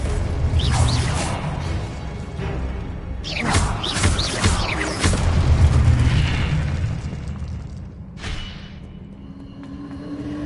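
A Confringo fire spell exploding in a Harry Potter video game, with loud, sustained booming blasts and crackling debris rolling through most of the clip, then a fading rumble with a final burst.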